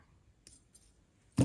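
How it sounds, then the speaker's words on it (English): Wire cutters snip jewelry wire while finishing a wire-wrapped double stone pendant, one sharp close snip at the very end after a couple of faint light clicks. "trim that wire"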